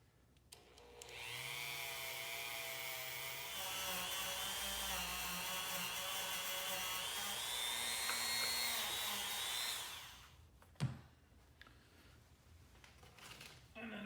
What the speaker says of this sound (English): Just using a brass brush.